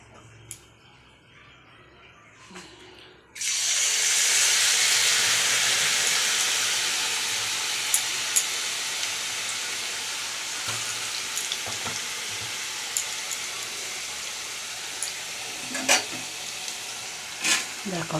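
Thin potato chip slices drop into hot oil over high heat and set off a sudden loud, steady hiss of frying that holds for the rest of the stretch, with occasional small pops and clinks.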